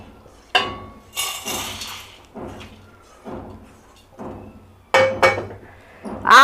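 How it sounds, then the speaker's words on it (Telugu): Metal utensils clink against a bowl as fried potatoes in curry powder are moved into it, giving a few sharp, spaced knocks and scrapes at close range, with quieter shuffling in between. "ఒక గిన్నెలోకి తీస్తున్నా"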